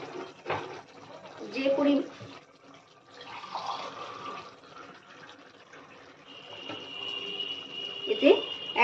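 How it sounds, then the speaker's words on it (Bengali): Hot water poured from a mug into a bhetki fish gravy, a soft splashing and trickling pour in short bursts, fairly faint, with a person talking over part of it. "এতে 1 মগ গরম জল আমি মিশিয়ে নিলাম।"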